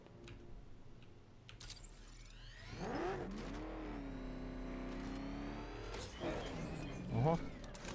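Batmobile engine in Batman: Arkham Knight revving and whirring up and down in pitch for several seconds, loud and steady under light background talk.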